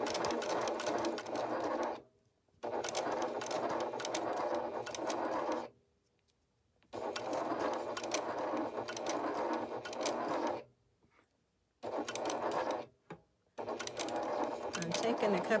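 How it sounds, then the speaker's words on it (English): A sewing machine stitching a turned-over fabric edge, its steady close whirring running in long bursts of several seconds separated by short silent stops. "I'm sewing as it's turned over. I'm sewing close to this edge"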